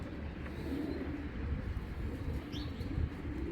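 Giribaz pigeons coo softly in a Bangladeshi farm loft, low repeated murmurs with a few faint chirps over steady background noise.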